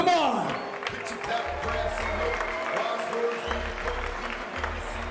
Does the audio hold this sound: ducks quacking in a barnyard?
no